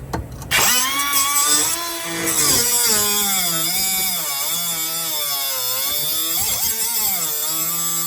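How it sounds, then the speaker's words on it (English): A cut-off wheel grinding through a stuck bolt during a DEF head unit replacement: a loud, sustained high-pitched whine that wavers up and down in pitch as the wheel bites and loads, close and continuous. "So just get a cut-off wheel."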